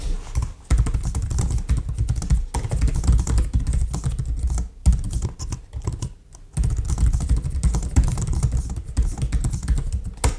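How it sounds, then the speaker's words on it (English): Rapid typing on an ASUS ROG Strix G15 laptop keyboard, crisp and close, with a few brief pauses between bursts of clicking keys. "The keyboard is full RGB and the buttons on it are really nice. They're not too loud"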